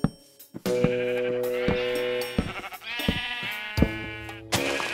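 Sheep bleating in the Minecraft video game: several loud, wavering bleats in a row, close and clear, with short gaps between them and no talk.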